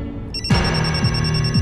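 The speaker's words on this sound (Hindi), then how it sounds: "किटी का फोन" A telephone rings indoors in a Hindi classroom drama, a steady electronic ring pulsing regularly and close for the whole moment, with no talking.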